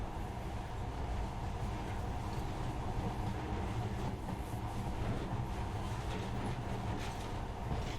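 Steady rumbling drone of a monorail train running in Metro Last Light, a continuous even mechanical roll with no distinct clacks or voices.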